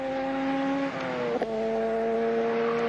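Alan Moffat's race car screams along Conrod Straight at Bathurst in 1981, a loud, sustained high-pitched engine drone with a brief dip and shift in pitch partway through as it holds flat out.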